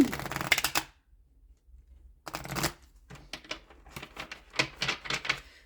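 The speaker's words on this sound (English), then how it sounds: "We're going to pull an angel card for you guys." A deck of angel cards is shuffled in quick riffling bursts. A brief flurry is followed by a pause, then a longer run of crisp, fluttering card slaps, close and fairly quiet, with no talking.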